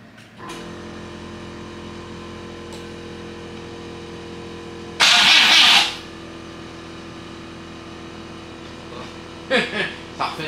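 An engine runs with a steady low hum, with a sharp, loud burst of noise in the middle and brief clatters near the end. People talk over it.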